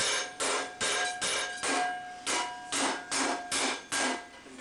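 A ball peen hammer's flat face strikes a steel plate for a 14th century barrel helm, landing about ten sharp, ringing metallic blows in a steady rhythm, close and clear with no talk.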